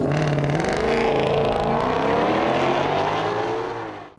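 A 2020 Ford Shelby GT500 launches hard, its engine roaring loud and close with rising revs through continuous acceleration before fading slightly at the end.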